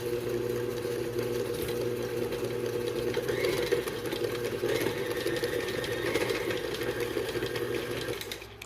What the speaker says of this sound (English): Now I'm going to whisk all these together.